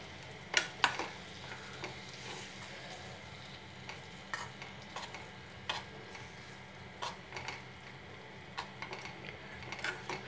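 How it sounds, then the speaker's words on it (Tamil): Eggs get turned in sizzling masala in a pan, with a low continuous fry hiss broken by scattered sharp scrapes and clicks of the spoon against the pan, close by and with no voices. "இதை 1 வாட்டி 2 வாட்டி அப்படியே நல்லா பிரட்டிட்டு அந்த மசாலா வந்து எக்கில் எல்லா இடத்துலையும் ஸ்ப்ரெட் ஆகணும்"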